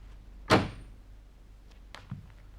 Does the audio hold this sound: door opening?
yes